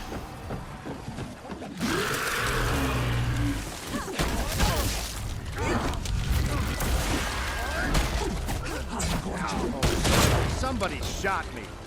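Gunshots in Evil Dead: The Game, scattered sharp shots and impacts mixed with combat clatter and game noise, with voices talking throughout.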